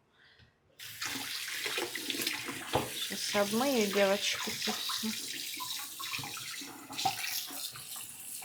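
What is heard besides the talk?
water running from an open tap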